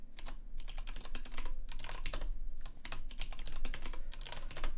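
Rapid, continuous clatter of keys on a computer keyboard as an email address is typed in, close and steady with brief pauses between bursts.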